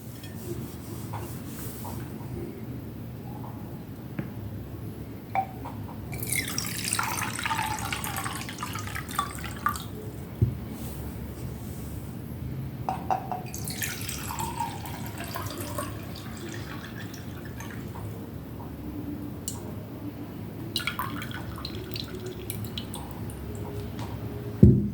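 Water poured into glasses for drinking at a home gospel gathering, with two long splashing pours standing out over steady room noise and scattered small clinks and drips.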